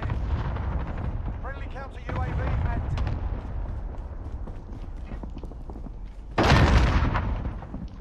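A claymore mine blast in Call of Duty: Modern Warfare, one loud, sudden broadband burst late in the clip after a stretch of ongoing gunfire and game noise, with voices talking over the action.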